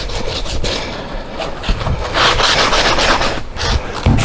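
A worn, used-up piece of sandpaper scrapes back and forth over a homemade wooden hand scoop in close, loud, uneven rasping strokes, with brief pauses between passes and no voices.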